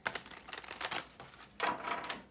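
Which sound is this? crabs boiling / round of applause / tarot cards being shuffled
tarot cards being shuffled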